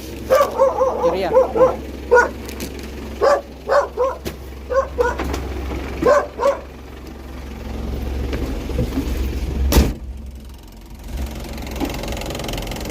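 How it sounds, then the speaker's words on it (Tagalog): Dogs bark repeatedly at night, in short bursts spaced a second or so apart and fairly close, before fading into low ambient rumble with a single sharp knock. "May aso."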